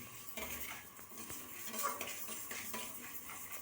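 Moong dal roasting over low heat in a pan and stirred slowly, with a spoon scraping and clinking against the metal in steady repeated strokes, close and moderately loud, no talking.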